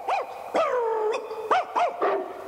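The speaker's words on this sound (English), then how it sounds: "There must be 5, 6 dogs at least here, and they're all shut up in cages." Several caged dogs give a run of short whining yelps and whimpers in close succession, close and fairly loud, with brief pauses between the cries.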